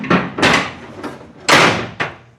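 The middle doors of a MAN livestock truck being opened, heard as a series of loud, close metallic bangs and clatters, about five heavy impacts in quick succession.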